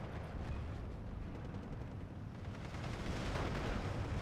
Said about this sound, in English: The 149 doing some great counter battery, clearly.